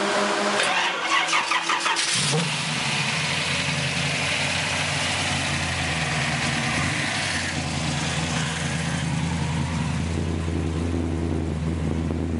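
A 1970 Chevelle convertible pro street custom cranks over and its V8 fires, then settles into a loud, rumbling idle that stays steady and close for about ten seconds, with no voices.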